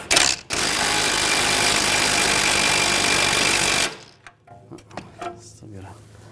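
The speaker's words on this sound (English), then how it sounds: "Use an 18mm socket, take the nut off." Loud, steady mechanical whirring, likely an impact wrench with an 18mm socket spinning the sway bar link nut on a 2011-2017 Nissan Juke, runs about four seconds after a brief start, then stops, leaving faint clinks and handling noises.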